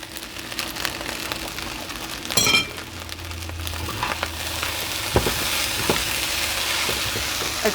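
Soy sauce hits a pan of sizzling pineapple fried rice, a steady frying hiss with a sharp splash and flare of sizzle, then continued crackling and occasional scraping as the rice is stirred.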